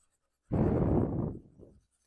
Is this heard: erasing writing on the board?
yes